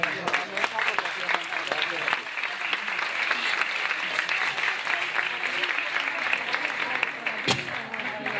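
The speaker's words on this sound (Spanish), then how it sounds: "por supuesto un aplauso para los" An audience seated on tiered stands at a transmedia and fandom event applauds, sustained crowd clapping with sharp individual claps poking through and a murmur of voices mixed in.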